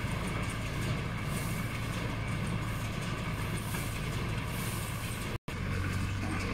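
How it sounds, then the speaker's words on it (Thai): A farm tractor pulls a straw baler across a rice field, its engine and machinery making a loud, steady mechanical drone that runs without pause, with no talk. "วิธีการอัดฟางก้อนนะครับก็จะเป็นแบบนี้นะครับใช้รถไถนานะครับในการลากไป"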